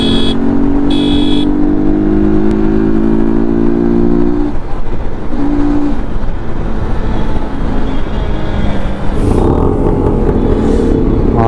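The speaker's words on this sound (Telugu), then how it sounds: "బాగుంది sound. 2 stroke engine. Full speed వెళ్తున్నాడు." A two-stroke auto rickshaw engine races at full speed through Bengaluru city traffic at night, a loud, steady drone with a buzzy tone that stays close and continuous throughout.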